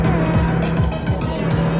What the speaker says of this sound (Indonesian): Ini baru mobil off-road guys.